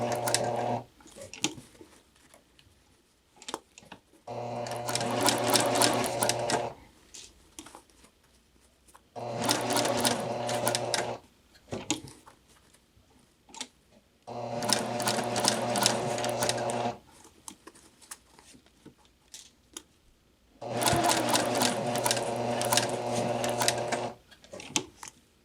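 A sewing machine stitches muslin in five separate bursts of fast whirring, with quiet gaps of fabric handling between them, and back tacks at the end of the seam.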